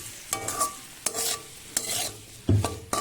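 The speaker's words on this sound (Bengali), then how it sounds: "ব্যাস লবণ দিয়ে নাড়াচাড়া করতে থাকবো" Enoki mushrooms are stir-fried with salt in a pan. A spatula makes several distinct scraping strokes at uneven intervals, each with a soft clatter, over a light sizzle underneath.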